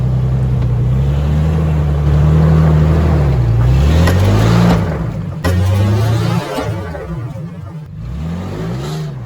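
An FJ off-road truck grinds up the Ridge Ram rock obstacle, its engine droning loud and close with revs rising and falling as it climbs, brief knocks over the steady motor, with faint talk in the background.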